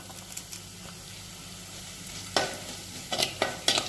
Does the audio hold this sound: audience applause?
no